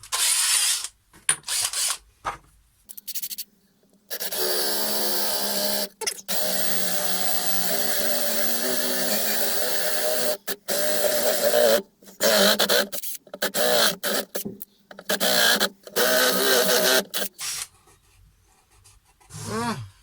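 A 20 mm Forstner bit bores a hole through a recycled box to pass a tube, giving sustained loud grinding bursts that stop and restart several times, with no talking.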